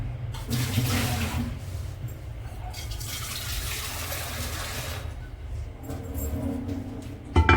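Clean water pours steadily into a container of cut potatoes nearby, a continuous splashing rush that pauses briefly and then resumes.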